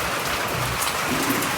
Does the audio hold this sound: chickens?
no